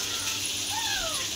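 A cat gives a single drawn-out meow that rises and falls, heard faintly over a steady background hiss in a kitchen where fish is being fried.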